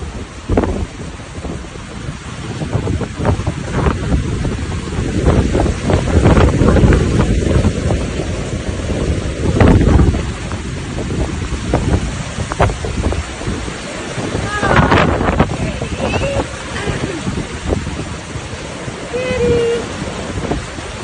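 Strong gusty storm wind roaring and buffeting the microphone, rising and falling in waves, with rumbling bursts and faint voices now and then.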